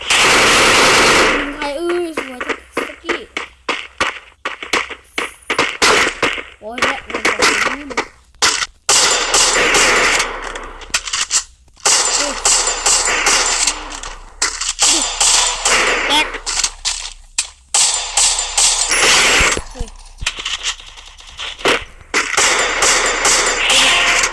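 Nonstop automatic gunfire from an MP40 submachine gun in a video game, loud and rapid, with bursts running almost continuously and only brief gaps, some speech mixed in.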